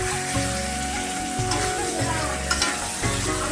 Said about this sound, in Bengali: আর এইদিকে এই যে পটল ভাজা হচ্ছে।